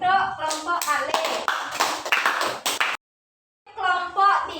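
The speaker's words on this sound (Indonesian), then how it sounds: "tepuk tangan untuk kelompok kalih" A Balinese-language classroom claps for a student group, a burst of hand claps mixed with voices for about three seconds, then a brief silence before talk resumes.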